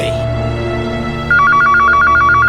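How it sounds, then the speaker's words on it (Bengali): A telephone rings loudly and close with a rapid warbling electronic trill that starts after a moment of steady background hum and repeats without pause. "ওই ডক্টরেরই ফোন মনে হচ্ছে"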